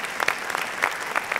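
Audience applause at a live Armenian humor league comedy show, steady dense clapping with a few sharper peaks, loud and close, no talking over it.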